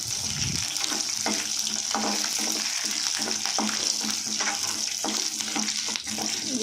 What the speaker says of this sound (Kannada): ಇದಕ್ಕೆ ಕಡಲೆಬೇಳೆ, ಉದ್ದಿನಬೇಳೆ, ಜೀರಿಗೆ ಹಾಕಬೇಕು. ಸ್ವಲ್ಪ ಕೆಂಪಾಗೋವರೆಗೂ ಹುರ್ಕೋಬೇಕಿದ್ದು.